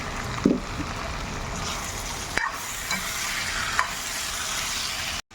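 Carrots, potatoes and eggplant sauté in a pan with a continuous sizzle. Stirring adds occasional scrapes and clinks against the pan, ending in a brief dropout.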